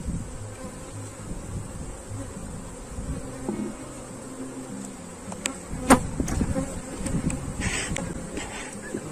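A honeybee swarm drones in a continuous close buzz during a hive inspection, with scattered knocks and taps from handling the hive box over it.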